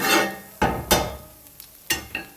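Leftover pork sizzling as it is reheated in a pan alongside potatoes, close crackling frying bursts with a few sharp stirring scrapes and clatters.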